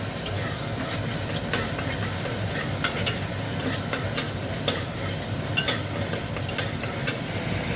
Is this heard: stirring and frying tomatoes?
yes